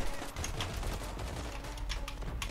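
Suppressed pistol fired in the shooter game Zula, a rapid series of sharp, fairly close shots in uneven bursts, with no talking.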